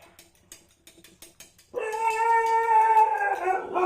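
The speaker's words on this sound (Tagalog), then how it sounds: "Ingay-ingay ng ating aso." A dog lets out a long, drawn-out cry close by, following a few soft, scattered knocks, in a home kitchen.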